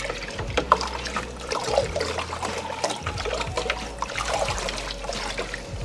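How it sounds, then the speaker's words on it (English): Egg water-glassing solution being stirred in water, soft sloshing and trickling with small splashes, continuous and fairly quiet, with low handling bumps underneath. "I'm just gonna keep mixing it until I feel like it's all dissolved in there."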